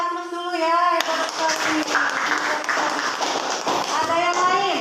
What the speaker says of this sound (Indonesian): kasih aplaus dulu ya